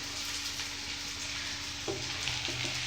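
Onions softening in a pan for idli upma sizzle quietly and steadily, with soft stirring scrapes near the end.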